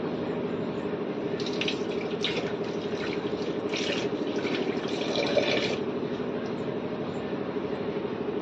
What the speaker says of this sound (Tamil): இதோட கொஞ்சம் நம்ம தண்ணி மிக்ஸ் பண்ணிக்கலாம்.